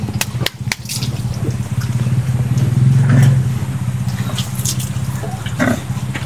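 Pigs raised in a pen make grunting, snorting calls over a steady low drone, with sharp clicks and knocks scattered throughout, moderately close.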